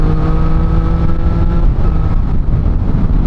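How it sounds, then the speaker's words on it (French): A Triumph Street Triple 765 RS motorcycle engine runs loud and close, its harmonic tone holding steady and then dropping briefly as gears change smoothly through the quickshifter, with wind rush underneath. "il est hyper fluide. Les vitesses passent toutes seules."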